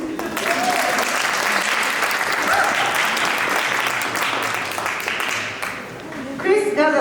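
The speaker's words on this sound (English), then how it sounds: "Another round of applause," An audience applauds steadily for several seconds, a dense wash of clapping that tapers slightly near the end.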